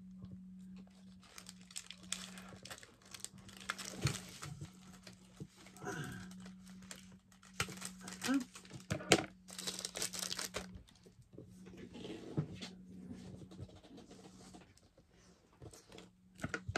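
Paper being cut for an altered craft card, with quiet snips, crinkles and rustles scattered over a steady low hum, faint and close.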